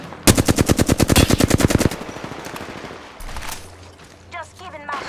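Apex Legends gunfire: a loud, rapid automatic burst of about fifteen shots lasting under two seconds, then quieter game sounds with a voice speaking.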